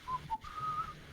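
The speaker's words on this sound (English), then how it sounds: "he is whistling as he walks" A person walking along whistles a short melodic tune, a few clear notes with a brief pause before a longer held phrase, close and alone.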